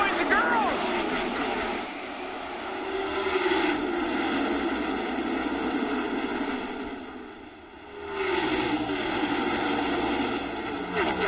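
NASCAR stock cars roar off at the start of the FedEx 400 at Dover, a loud sustained engine drone that swells and sweeps as the pack passes, dipping briefly between waves of cars.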